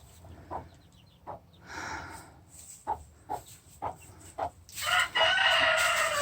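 Backyard chickens, including a broody hen, cluck in a steady series of short, close calls, followed by a louder burst of agitated fowl noise at the end.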